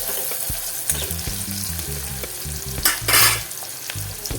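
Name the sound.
onion and garlic frying in a pan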